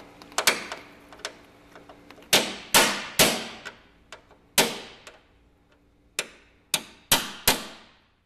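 Sharp metallic hammer blows knock out rivet centers on a truck running board, a dozen or so ringing strikes in irregular clusters, each decaying quickly, close and clear with no voices.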